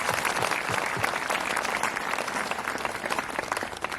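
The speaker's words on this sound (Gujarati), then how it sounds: "આ દરેક દાતાઓ માટે આપણે જોરદાર તાળી પાડીને આભાર માનીએ" A crowd at an Easter celebration in Dang breaks into loud, sustained clapping to thank donors, a thick wash of hands that carries evenly from start to finish.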